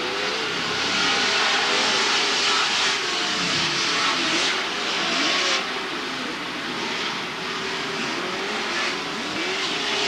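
Off-road Pro 2 and Pro 4 race trucks roar around the Pomona CORR track in 2008, a dense, continuous engine drone with pitch sweeps as trucks accelerate and pass, loud and steady throughout.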